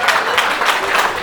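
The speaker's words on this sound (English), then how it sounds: "Give a round of applause to Chris, our best man" Wedding reception guests applauding the best man after his speech: a dense, steady wash of clapping from a roomful of people, even in loudness throughout the brief moment, with no talk on top.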